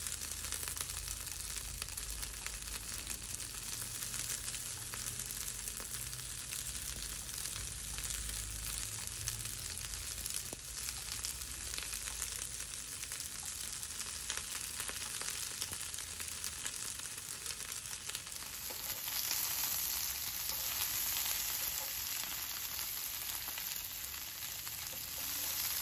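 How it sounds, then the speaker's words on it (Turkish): Peppers frying in hot olive oil, a long, even crackling sizzle heard close and fairly quiet, steady throughout with a slight change in tone late on. "Zeytinyağı iyice ısındıktan sonra biberlerimizi ekleyebiliriz."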